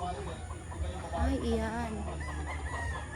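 Chickens clucking and crowing inside a large farm pen holding thousands of birds, a busy layered chorus close by, with a voice speaking briefly over it.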